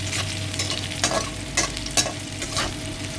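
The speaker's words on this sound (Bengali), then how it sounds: "আলুর মধ্যে একটু নুন দিয়ে ভাজলে তাড়াতাড়ি সিদ্ধ হয়ে যাবে" Potatoes fry in oil, sizzling steadily in a pan while being stirred, with repeated scraping clatters every half second or so.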